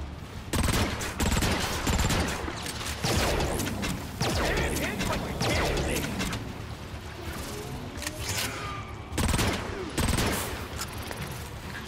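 Robotic battle gunfire in Transformers: Rise of the Dark Spark, with rapid volleys of blaster shots and metallic impacts firing in dense, uneven bursts close by, sharper clusters near the start and again toward the end.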